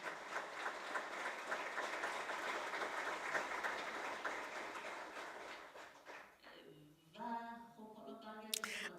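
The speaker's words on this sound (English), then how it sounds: "Please, let's applaud Mr. Taqi Rahmani, husband of Narges Mohammadi." A conference audience applauds in a steady, dense wash of clapping that fades out, followed by a few brief tonal notes near the end.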